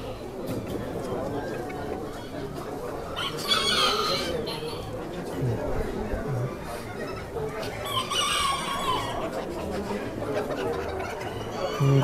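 A rooster at a poultry expo in Houston crows twice in bursts amid a crowded hall, with people chattering nearby and someone talking over the birds.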